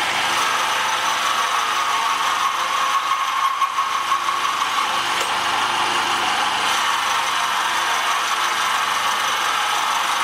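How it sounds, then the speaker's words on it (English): Milling machine taking small, fine cuts in a cast iron rocker arm fork end for an Alba 1A shaper repair, a steady, loud mechanical hum and cutting whir running continuously without pause. "Now I'm doing some fine milling here, but we're taking pretty small cuts, and it is cast iron and it's cutting very nicely"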